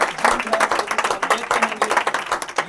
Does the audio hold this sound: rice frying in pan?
no